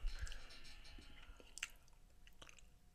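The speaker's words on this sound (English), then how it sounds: "I'm eating a trail mix" Quiet, close chewing of trail mix, with soft crunches and moist mouth sounds in an irregular rhythm and a couple of sharper bites, all faint with no speech.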